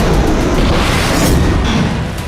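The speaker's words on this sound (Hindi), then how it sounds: "आईडीएफ ने हिज्ब कमांडर अली हुसैन की कार पर एयर स्ट्राइक की।" Air strike blast on a car in Dayr Qanoun, southwest Lebanon: a loud, dense rumbling roar that fills the whole moment, heavy and low, with no voices.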